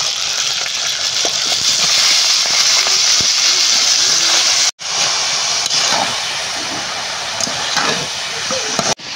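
Sour greens hit a hot pan with salt and turmeric, producing a loud, steady broadband sizzle and hiss that cuts out briefly partway through, then resumes as spoon scrapes and stirring knocks sound over it.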